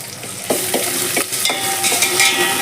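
Ginger garlic paste frying with browned onions in a pan for a Telugu drumstick dal dish, a steady close sizzle broken by several sharp stirring scrapes, with no voices.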